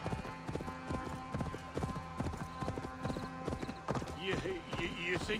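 Horse hooves clip-clop in Assassin's Creed Valhalla, a brisk, steady run of close hoofbeats with game voices and other sounds layered over them.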